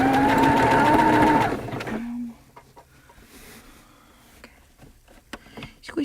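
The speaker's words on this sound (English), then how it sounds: "I'm gonna start with a reverse stitch." Sewing machine running a reverse stitch on fabric for a cat hat, a steady loud motor whir that stops abruptly partway, followed by quiet handling clicks and faint rustling.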